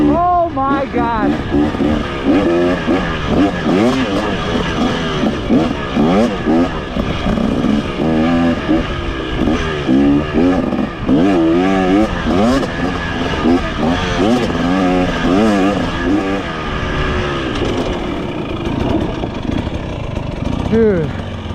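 A 2023 KTM 300XC dirt bike engine revs repeatedly, its pitch rising and falling in sweeping waves, loud and close with a voice speaking briefly over it.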